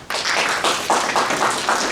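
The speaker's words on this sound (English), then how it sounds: "So let's give a round of applause, please, for Mr. Simshad." An audience applauds a guest speaker at a hotel-industry talk, a dense, steady wash of many hands clapping that starts abruptly and holds at even loudness, close and filling the room.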